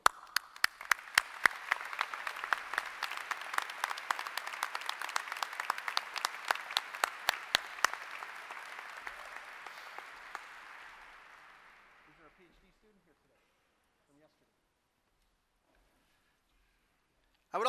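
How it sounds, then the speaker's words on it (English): Commencement crowd at an engineering school ceremony applauds faculty: a broad, steady roar of many hands clapping with sharp individual claps standing out, swelling then tapering off around twelve seconds into near silence. "Join me as we applaud their support of and dedication to the success of our students."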